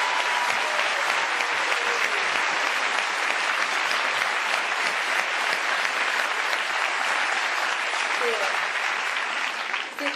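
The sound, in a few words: applause from neighbours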